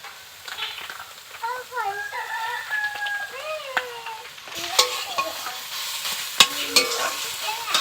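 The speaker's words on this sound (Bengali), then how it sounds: "এটাকে খুব ভালো করে মিশিয়ে নিচ্ছি।" Boiled potato being mixed in a frying pan makes repeated scraping and clattering stirs over a low sizzle, growing busier in the second half, while a rooster crows in the background early on.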